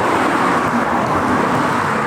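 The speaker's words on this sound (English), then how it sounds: "It's a very, very busy road coming down into Viana do Castelo" Busy road traffic coming down into Viana do Castelo, a loud continuous roar of passing cars close by with no breaks.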